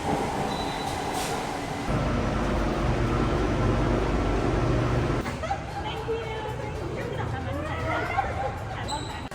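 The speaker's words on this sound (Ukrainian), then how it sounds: "вирішили спробувати тайське метро" A Bangkok metro train rumbles and rattles along the rails, with a shift in tone midway and faint squealing wheels near the end.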